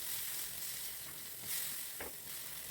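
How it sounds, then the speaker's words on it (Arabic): Sausage with thinly sliced onion sizzles and crackles in a hot pan as it is stir-fried, a steady close hiss with faint scrapes of stirring and no speech. "هبتدي اشوح فيه كويس قوي لحد ما يستوي"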